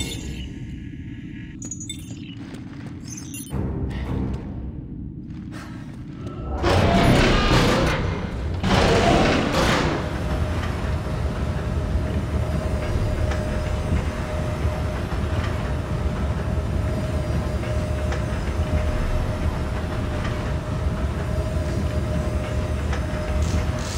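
Train moving in Dead Space 3, a quiet stretch with scattered clanks giving way to a loud, steady rumble of rolling wheels and rattling carriages that carries on unbroken, close and heavy.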